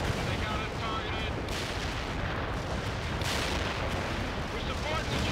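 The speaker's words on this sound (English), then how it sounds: "Delivering a rain of shells at target coordinates" Artillery shells striking a target in the World in Conflict strategy game, a continuous rumbling barrage of distant blasts with a few louder impacts rising out of the din, voices heard faintly in the mix.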